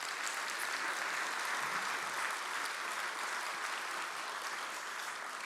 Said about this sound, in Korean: 다시 한번 뜨거운 박수로.